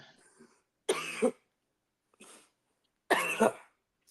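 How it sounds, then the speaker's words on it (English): Two harsh coughs ring out close and loud, separated by a pause, with faint breathy sounds before and between them. "I'm coughing."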